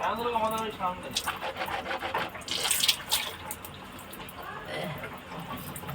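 Tap water runs and splashes as someone washes their face, a close, uneven spattering with a voice speaking over it.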